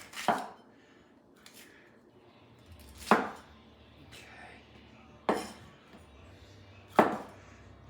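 A cleaver chops a yellow pepper on a board, four sharp separate thwacks spaced a couple of seconds apart, close and clear, with quiet talk between them.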